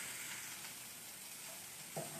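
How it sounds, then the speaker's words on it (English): Eggplant browning in a pan with oil, a faint, steady sizzle with one small clink near the end and no talking. "So we're just browning the eggplant."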